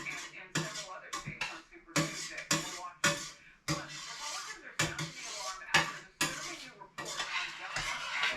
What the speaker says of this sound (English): And stir it up again.